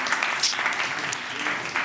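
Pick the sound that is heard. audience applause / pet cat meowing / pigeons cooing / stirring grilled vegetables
audience applause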